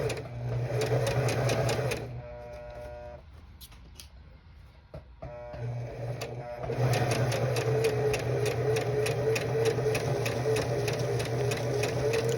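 Sewing machine stitching elf costume fabric, a steady close mechanical whir that slows and drops away mid-clip, then resumes at full speed.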